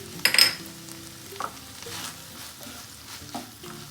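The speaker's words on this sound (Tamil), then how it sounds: "போட்டு நல்லா மிக்ஸ் பண்ணி விட்ருங்க." Potato and okra frying in a pan with crushed kasuri methi as they are stirred, a close, steady sizzle with a sharp scraping clatter early on and softer stirring strokes after, no voices.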